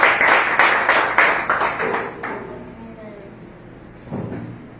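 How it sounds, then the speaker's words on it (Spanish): A church congregation claps in rhythmic, fairly close bursts that fade out after about two seconds, followed by a quieter stretch with a voice speaking and a final thump. "Un aplauso a Dios"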